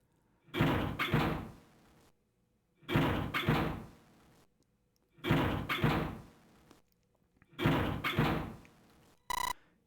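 Locked hospital doors in Zero Escape: 999 rattle and thud as someone tries them, four evenly spaced bursts of heavy clunking and shaking with silence between, followed by a short electronic beep.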